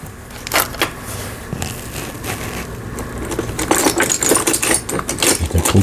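A Janome-type Lion Pro Indigo sewing machine winds thread onto its bobbin, a close mechanical whirring run with rapid clicks and rattles that grows busier and louder toward the end.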